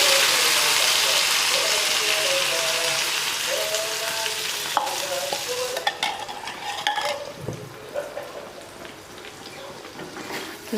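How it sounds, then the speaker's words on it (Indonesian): Ground spice paste sautéing in a pan for a Balinese eel dish, with a loud continuous sizzle that gradually fades, broken by a few utensil scrapes and clinks near the end. "Selanjutnya kita tumis bumbu halus."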